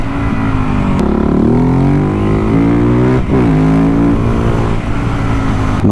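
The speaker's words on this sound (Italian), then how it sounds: "Quanto è prepotente sta moto." A 690 motorcycle engine, loud and close, revving continuously as it climbs through the gears with brief dips between shifts.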